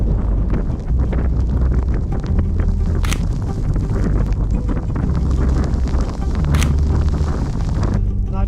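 Wind blowing beside the water buffets the microphone in a constant low, rough rumble, loud and close, with a couple of brief sharper gusts.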